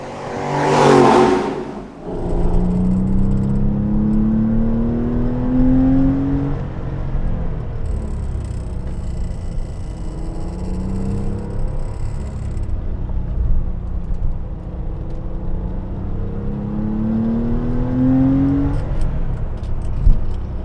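An air-cooled 993 Porsche 911 C4S engine hums steadily inside the cabin, rising in pitch as it accelerates through gears with a pause for a shift, continuous and close, no talking.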